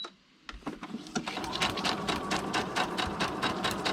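A sewing machine stitches on paper, starting from quiet, then running in a fast steady clatter of needle strokes as it switches between straight and zigzag stitching.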